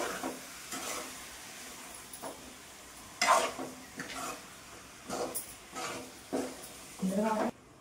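Chicken curry with masala cooking in a pan, stirred at intervals: soft sizzling under repeated scraping strokes of a spoon against the pan, close and moderately loud, with a voice talking in between.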